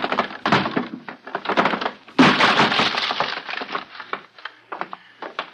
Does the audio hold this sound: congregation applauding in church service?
no